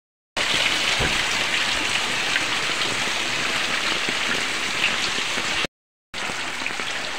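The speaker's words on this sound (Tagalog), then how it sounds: "talagang napakalakas ng ulan" Heavy rain from Typhoon Carina pours down in a dense, steady roar, briefly cutting out near the end before resuming.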